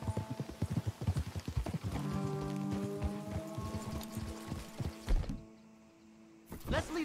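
Horse hooves clop in quick, steady rhythm on a trail in Red Dead Redemption 2, under sustained music tones, before slowing and fading to near quiet.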